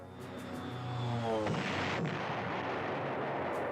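Stuka dive bomber attacking enemy armor in the retro PlayStation game Panzer General: a descending aircraft whine that gives way to a loud, rolling explosion rumble that lingers and fades.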